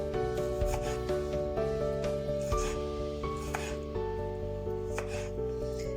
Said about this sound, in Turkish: Bu şekilde dilimliyoruz bütün domateslerimizi. Şöyle ince ince.